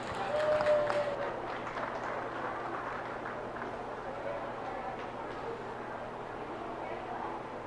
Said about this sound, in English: Let's give you a nice round of applause.